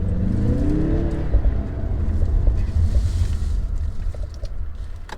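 A Mazda CX-30 with all-wheel drive accelerates under turbo boost, giving a deep, steady engine drone with rising tones, heard from inside the cabin along with loud road and wind rumble.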